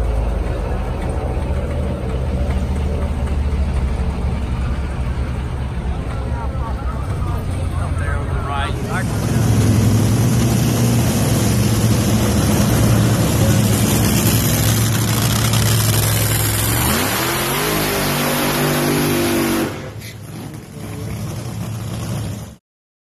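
Top Fuel dragster engine at the US Nationals drag racing event at Indy, a loud sustained roar that surges into a harsher full-throttle blast before cutting off abruptly near the end.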